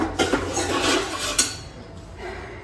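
Dishes and utensils clatter and clink as they are handled and set down, a few sharp knocks among softer rattling, close by with no talking.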